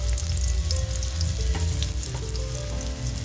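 A cup of chopped onions frying in about two cups of white soybean oil, a loud, dense and continuous sizzle with faint clinks scattered through it, no talking.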